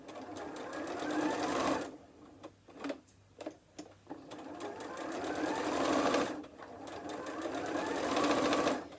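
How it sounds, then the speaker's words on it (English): A sewing machine stitches around a fabric heart in bursts, its rapid mechanical whir swelling and easing, broken by a pause filled with clicks while the needle is set and the work pivoted, then running steadily again, close with no talking. "Each time you feel like the heart is coming away from the centre of the machine foot, insert your needle, pivot your project, and sew around that heart there."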